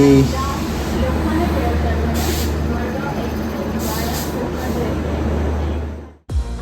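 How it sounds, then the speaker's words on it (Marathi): A steady, heavy rumble of a train arriving at a station fills the scene, with voices and brief hissing bursts over it before it cuts off; a Mumbai to Konkan overnight train. "फायनली आमची ट्रेन आलेली आहे"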